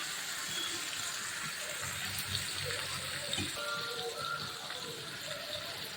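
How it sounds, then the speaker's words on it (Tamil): Water streams steadily into a pan of tomato sambar being cooked, a continuous close splashing gush with faint clinks over it. "கொஞ்சம் தண்ணி கலந்து"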